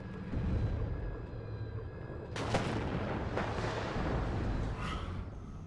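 Artillery strikes in the WARNO war game: a low rumbling bed with a sharp, loud explosion burst midway, then further dull booms and crackling debris trailing off.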